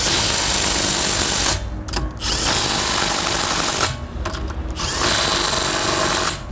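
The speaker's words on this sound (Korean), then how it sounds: "이게 1kg 채 안 되는 임팩 렌치로 지금 21mm 복살이 풀립니다" A cordless impact wrench weighing under 1 kg loosens a 21mm bolt, hammering in loud, rapid buzzing bursts, three long runs broken by brief pauses with a ratcheting stutter as it starts and stops.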